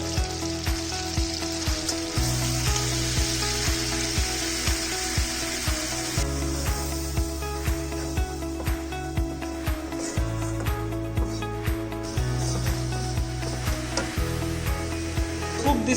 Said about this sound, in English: Cook this mixture of refined flour and butter on a very slow flame.